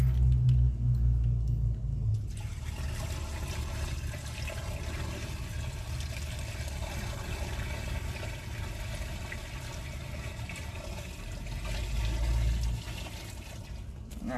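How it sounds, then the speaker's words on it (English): A bucket of water pours down a sewer line, a steady rushing, gurgling flow with low rumble that runs continuously for the whole stretch, swelling slightly near the end. "I got one more bucket of water there going down line just to help clear that stuff out"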